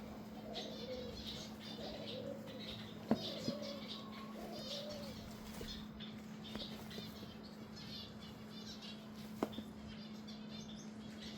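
Small birds chirp and twitter faintly in short bursts over a steady low hum, with a couple of sharp clicks.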